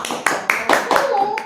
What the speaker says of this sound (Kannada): ನಿಮಗೆ ಹೊಡಿರಿ ಚಪ್ಪಾಳೆ, ಹೊಡಿರಿ.